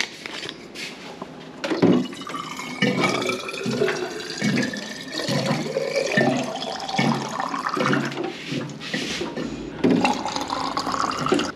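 Water runs steadily from a tap or pipe, a loud continuous splashing rush that lasts throughout with small fluctuations and no speech over it.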